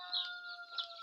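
Chickens cluck and call nearby in a brief, close burst of clucking.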